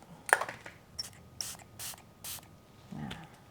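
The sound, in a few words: matte makeup setting spray being sprayed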